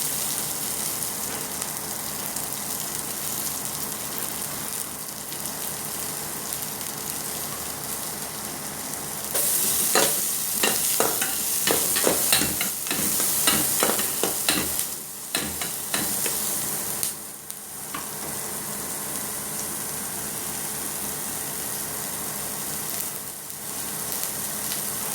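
Onions and chili sauté in a hot pan for beef offal papaitan, a constant close sizzle that swells louder with rapid stirring and spatula scrapes midway, then settles back, no voices.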